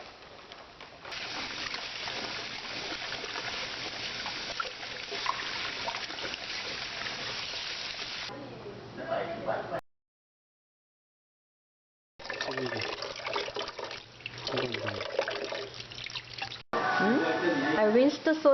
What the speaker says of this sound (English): I rinsed the soybean sprout twice.